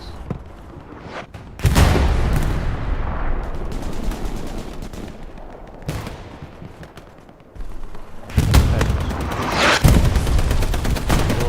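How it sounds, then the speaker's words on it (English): A rocket slams into a tank during a Hell Let Loose match on Utah Beach, a heavy booming impact among rolling battlefield gunfire, with two loud surges of blasts separated by quieter stretches. "Another rocket goes into the side of that 76."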